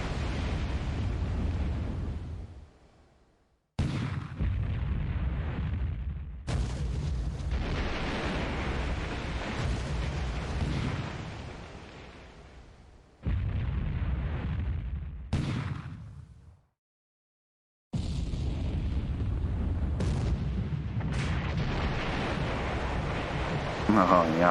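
The battleship Fuso fires naval guns in a video game battle off Luzon. Heavy booming blasts and rumbling salvos recur across a long stretch, broken by brief silent cuts, with someone talking over much of it.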